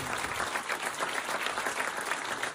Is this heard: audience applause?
yes